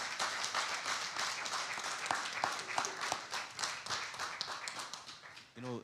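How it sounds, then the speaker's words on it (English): Scattered clapping from a modest audience at a meet-the-candidates event, fairly faint and uneven, with individual claps standing out and a voice briefly heard. "Audience, can we please give all of them a round of applause?"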